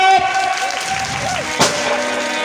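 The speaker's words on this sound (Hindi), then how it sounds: "जोरदार तालियों से स्वागत" A crowd at an Independence Day gathering in India applauds to welcome a speaker, a moderate clapping texture running under prominent voices and shouts, with one sharp louder clap near the middle.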